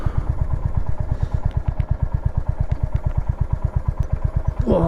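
A motorcycle idles nearby while being parked at a 1930 hydroelectric power station, its engine thumping in a fast, even, loud rhythm of low pulses, with a brief clatter at the end.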